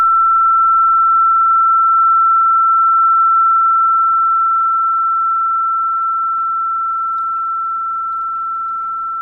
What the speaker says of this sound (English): I'll sound another tuning fork